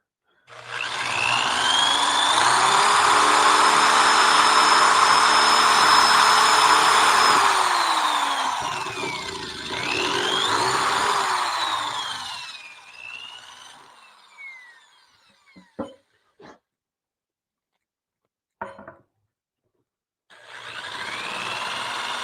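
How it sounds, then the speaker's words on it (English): A power drill whines loudly through wood in long sustained bursts, its pitch rising and falling, then a few sharp knocks before drilling resumes. "I have to drill some more, a little bit more."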